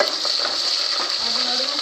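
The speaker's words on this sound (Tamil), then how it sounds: "இப்போ இதை நம்ம வந்து நல்லா ரோஸ்ட் பண்ணி எடுத்துக்கலாம்" Small onions roast in a pan, giving a dense, even sizzle that stays loud and close throughout with faint stirring underneath.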